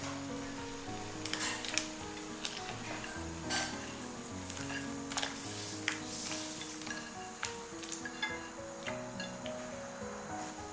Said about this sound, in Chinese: 水烧开以后，下入土豆小面片